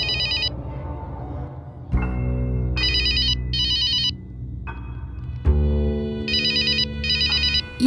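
A mobile phone ringtone plays in repeated short electronic bursts, with a steady hum and low music-like tones underneath; no one speaks.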